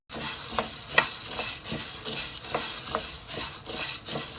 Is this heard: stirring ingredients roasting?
yes